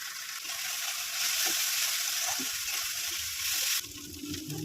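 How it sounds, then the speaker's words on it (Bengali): Spices with turmeric fry in a pan, a steady hissing sizzle that runs throughout at moderate loudness, with a soft stir near the end and no talking. "মশলাগুলো দিয়ে আমি কষিয়ে নেব।"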